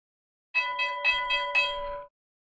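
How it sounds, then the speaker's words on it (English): A bright electronic stock market opening bell rings in a quick repeated series of about five strikes, ringing out clearly for under two seconds before stopping. "there's the bell."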